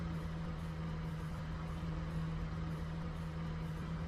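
A continuous, unchanging car engine hum from the iRacing racing game, with a low tonal drone and no talk over it.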